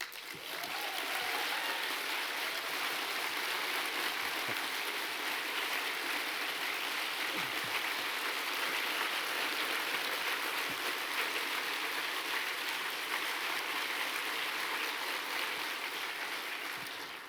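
An audience at a party conference gives a standing ovation after a deputy leader's speech, dense continuous clapping that fills the hall evenly, loud and sustained, with no voices.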